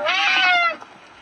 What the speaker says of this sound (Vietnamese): Hai chú mèo.